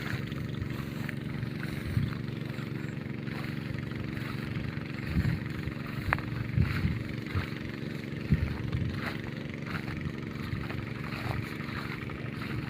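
A small engine running an irrigation pump in a rice field chugs steadily at moderate distance, a continuous putter with occasional knocks and clanks over outdoor ambience.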